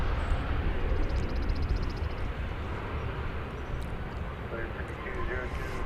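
An American airliner arriving from Cancun at DFW Airport, a distant steady jet rumble under outdoor background noise, with people talking over it.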